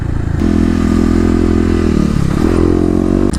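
Kawasaki KLX250 dual-sport motorcycle ridden on pavement, its single-cylinder engine humming loud and close at steady revs, dipping and rising briefly near the end.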